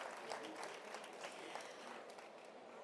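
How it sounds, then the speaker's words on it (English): Audience applauding panelists at a high-level conference event, steady sustained clapping from many hands at moderate distance throughout. "a big round of applause to our panelists before we start into our conversation"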